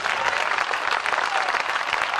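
Dense, sustained applause from a large crowd at a live Hindi poetry recital, a continuous wash of many hands clapping at once, loud and even throughout with no speech over it.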